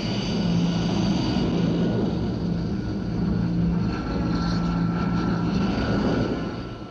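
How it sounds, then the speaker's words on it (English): RAF Kestrel jump jets taking off from a small clearing, a loud continuous roaring jet engine rumble with a high whine that holds steady and fades slightly at the end, no voices. "The flight of Kestrels can get away from this small clearing in a matter of minutes"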